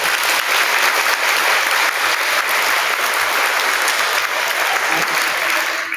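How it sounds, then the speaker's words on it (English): Audience applause at a kindergarten awards program, steady dense clapping from a large crowd that holds loud for about six seconds before tapering slightly at the end. "Let's give it one more round of applause."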